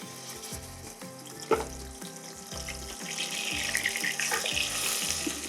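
Blended onion, garlic and ginger paste frying in hot oil in a pot, a soft crackling sizzle under a steady mechanical hum, with a sharper splash as it goes in and bubbling that grows busier.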